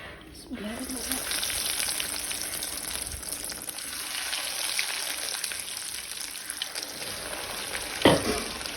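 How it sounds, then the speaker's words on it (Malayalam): Banana cutlets sizzling in hot oil, a continuous bright crackle of frying close by that holds steady throughout, with one sharper clatter near the end. "ഇപ്പം എണ്ണ അതാ ചൂടായിരുന്നു നമുക്കിത് പൊരിച്ചെടുക്കാം"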